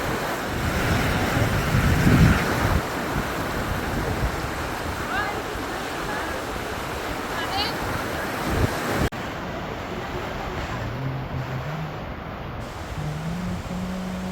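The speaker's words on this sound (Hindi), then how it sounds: "ये शोर करने वाली नदी अलकनंदा" Noisy Himalayan river near Badrinath, either the Alaknanda or the Bhagirathi: a steady, loud rushing roar of fast water mixed with wind buffeting, with faint voices and a brief tonal sound late on.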